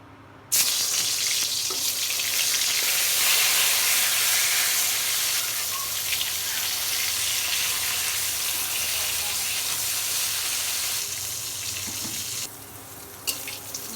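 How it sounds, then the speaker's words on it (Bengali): Eggplant chops fry in hot oil in a wok, giving a loud, dense, continuous sizzle that runs almost the whole time after a sudden start. "কড়াই গরম হয়ে গেছে তেল দিয়ে দেব বেগুনের চপ ভাজির জন্য"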